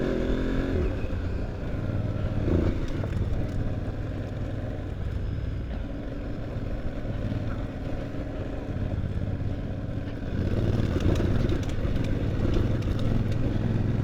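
A motorcycle on a dirt trail of the TET near St-Cirq-Lapopie, engine running steadily close by and growing louder toward the end as the rider opens the throttle, with some talk over it.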